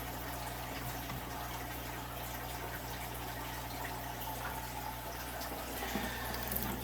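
Dirty aquarium water from a fish room pours steadily into a white bucket, a continuous close rushing splash with low hum underneath and no pauses.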